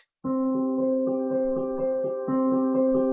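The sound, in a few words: sound imitating water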